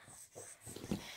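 A dog whimpering and breathing softly in short, quiet whines, close by but faint.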